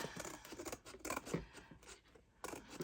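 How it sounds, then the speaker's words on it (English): Scissors snip repeatedly in quick, uneven bursts, close and fairly quiet, with crisp rustling as the blades run through stiff card. "just going to take my scissors and run along here"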